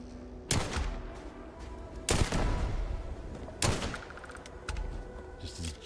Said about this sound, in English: Let's hear the Deagle fire.